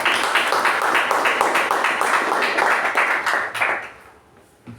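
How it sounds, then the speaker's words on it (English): Audience at a Toastmasters club meeting clapping together in a steady burst of applause that fills most of the moment, then quickly dies away near the end. "let's give a big round of applause for Toastmaster Shuba."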